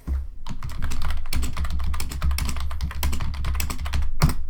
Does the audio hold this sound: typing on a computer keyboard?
yes